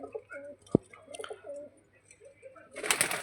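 Giribaj pigeons coo in short repeated throaty phrases, close by, broken by a sharp tap and ending in a burst of rustling noise.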